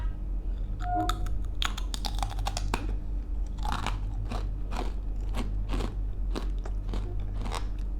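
Crunchy beetroot snack chips bitten and chewed up close, with a run of sharp, crackling crunches over about eight seconds against steady low background hum.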